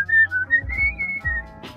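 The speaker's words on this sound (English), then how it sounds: "awful whistling" A person whistles a short wavering tune up close, clear and loud, with a few soft thumps underneath and no talking.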